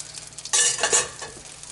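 A sizzling brown sauce base with celery gets a quick stir in a pan, a brief loud burst of frying hiss and scraping that fades within a second.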